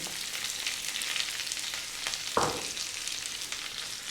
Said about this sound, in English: What we're going to do now is we're going to drop in that onion